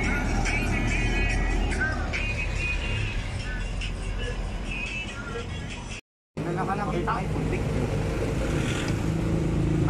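A car climbs a mountain road in Benguet, the Tuel-Samoyao route, its engine humming close and steady with rumbling road noise, while someone talks over it; the sound drops out briefly midway before resuming.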